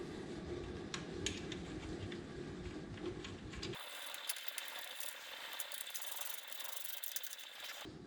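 A ratchet clicks in quick repeated strokes while tightening the right front foot peg on a Honda Shadow Spirit 750 motorcycle, close and distinct, with a metallic, slightly rattly mechanism sound and no talk.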